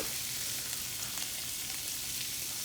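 About 200 grams of sliced button mushrooms frying in a pan for a burger steak mushroom gravy, a continuous close, even hiss of sizzling oil with no voices over it.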